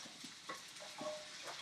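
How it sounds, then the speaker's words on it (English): Onions browning in olive oil in a pan at a home cooking show, a soft steady sizzle with occasional stirring scrapes and light utensil clinks, faint and close with no talk. "Yes, we're going to brown these onions."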